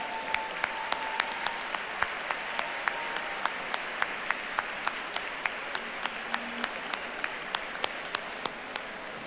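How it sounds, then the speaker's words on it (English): Audience at the Gotham film awards event applauds, steady crowd clapping with sharper individual claps popping out regularly, sustained and even throughout. "join us in giving both cohorts a round of applause as they stand"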